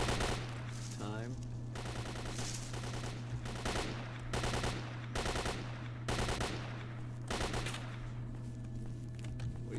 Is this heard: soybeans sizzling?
no